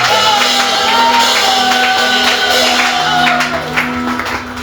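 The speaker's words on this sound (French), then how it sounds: "Quelqu'un peut acclamer, pousser les cris de joie" A church congregation at a French-language worship service cheers and shouts for joy. The loud, sustained crowd noise fills the space with whoops and voices, along with steady tonal sounds beneath.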